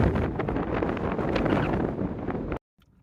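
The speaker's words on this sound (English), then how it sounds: "It's too bad the wind is so brutal." Strong gusty wind buffeting an outdoor microphone, a loud continuous rumbling roar that cuts off abruptly near the end.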